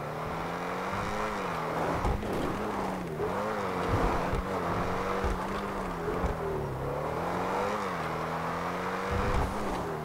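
Audi R8 in GTA V tearing off-road through brush and hills, a steady loud engine drone with wavering pitch as revs rise and fall, bumps and thuds scattered throughout, no talking.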